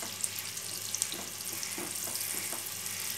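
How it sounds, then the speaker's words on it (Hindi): Finely chopped garlic fries in melted butter with a faint, steady sizzle and a few light clicks of a utensil against the pan, heard alone with no talk. "बटर मेल्ट हो गया, अभी इसमें जो लहसुन बारीक कट के रखा था वो ऐड किया।"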